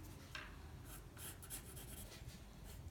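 A brush softly shading the corners of a charcoal drawing of an apple on paper, giving quiet, intermittent rubbing strokes in short bursts, faint and close, with no talking.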